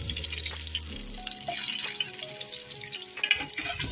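Ginger sizzles in a pan with a soft, steady hiss and a few light clinks of stirring, close and fairly quiet.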